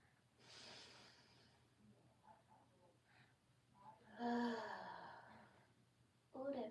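Breathing during mindful meditation: a soft, close nasal inhale, then a quieter pause, then a longer, deeper breath drawn in through the nose.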